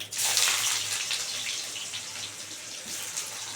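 Onion sliding into hot oil with nigella seeds gives a steady, hissing sizzle that rises at once and then fades gently to a softer, even frying hiss, with no voices.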